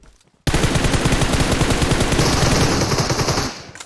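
A long, dense burst of rapid automatic machine gun fire in the video game PUBG Mobile, loud and close, starting abruptly and running for about three seconds before cutting off.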